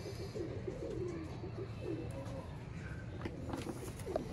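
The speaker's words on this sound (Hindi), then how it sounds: "ये दुबई वाले टैडी कबूतर हैं।" Dubai teddy pigeons coo in soft, repeated low rolling calls, layered over a steady background hum with a few brief chirps from other birds.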